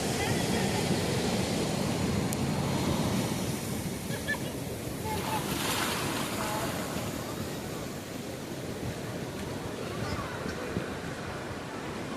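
Big ocean waves roar steadily onto Chirala beach in India, a continuous loud wash of surf with gusty wind buffeting the microphone throughout.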